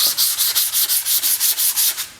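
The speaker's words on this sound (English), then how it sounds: "I take some 220 grit sandpaper on my sanding block, and I just lightly go over it like this." 220-grit sandpaper on a sanding block scrubs back and forth over a wooden drum shell in about a dozen even, brisk strokes, close and loud, a dry rhythmic hiss.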